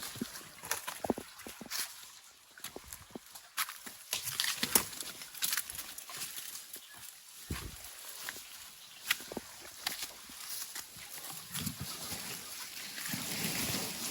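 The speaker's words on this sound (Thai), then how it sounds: "ได้ยินเสียงน้ำเลยนะ มันน้ำไหลอยู่ใต้หินดู" Water flows and trickles under rocks in a forest stream, a steady faint gurgle with scattered splashes and footstep-like knocks throughout.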